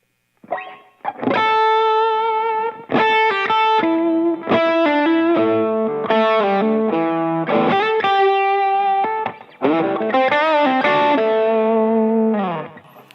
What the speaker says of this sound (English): right away you can tell there's a lot more gain, there's a lot more drive or distortion